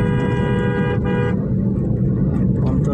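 A car drives along a rain-soaked road between Gabtoli and Nabinagar with a loud steady rumble; a sustained horn honk sounds for about a second near the start, then the road noise continues.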